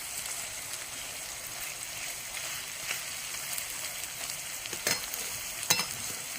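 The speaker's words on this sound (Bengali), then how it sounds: "এটা ব্রাউন ব্রাউন করে ভালো করে ভেজে নিতে হবে পেঁয়াজগুলো।" Onions fry steadily until browning, a soft continuous sizzle over a cooking fire with a few sharper stirring scrapes and clicks near the end, fairly quiet and close.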